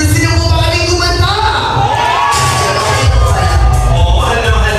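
Loud crowd at a birthday celebration shouting, cheering and whooping together, with children's voices rising above a dense, continuous roar close by.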